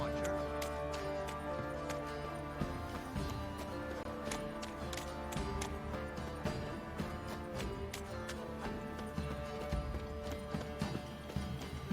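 Horse hooves clip-clopping in The Witcher 3 video game, a brisk steady trotting rhythm of sharp clicks close by, under game music and intermittent character dialogue.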